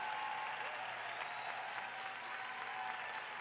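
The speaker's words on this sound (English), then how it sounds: "That deserves a big round of applause." Sustained audience applause at the 2019 iBuumerang Vision keynote, a steady dense wash of clapping filling the hall from start to finish with no pauses.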